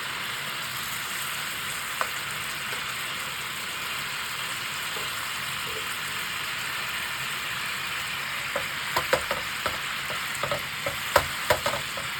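Japanese-style hamburger steak sizzling in a pan with buttercream sauce, a steady moderate frying hiss throughout, joined later by scattered clinks and scrapes of a utensil stirring, with no talking.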